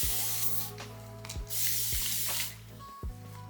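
A handheld spray bottle mists water onto dry hair, giving several short, close hissing bursts in a steady rhythm of about one spritz every half second to second.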